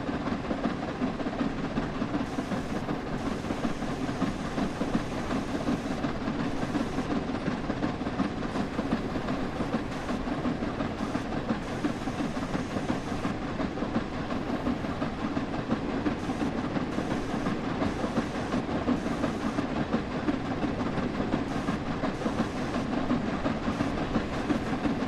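The Flying Scotsman steam locomotive from Train Sim World 4 runs steadily with a continuous rumbling roll and rhythmic clickety-clack of wheels over rail joints, loud and unbroken for the whole stretch with no talk.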